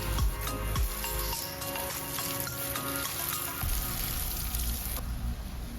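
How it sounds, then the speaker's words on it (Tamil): Water pours and splashes steadily while plants are watered at home, a continuous hissing, spattering stream with a few brief pauses and no talking. "ஸோ கைஸ் இப்போ செடிக்கு தண்ணி ஊற்ற போகிறோம்."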